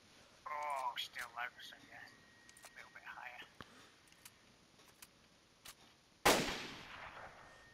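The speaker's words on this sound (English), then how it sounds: "Single shot." A sniper rifle fires a single loud, sharp shot in DayZ after several seconds of quiet, murmured talk.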